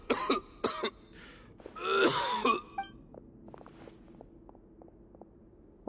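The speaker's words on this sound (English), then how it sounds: "Why is he coughing so much?" A character in Genshin Impact coughing and clearing his throat, several harsh bursts in a row, loud and close, followed by quieter scattered game sounds and faint background ambience.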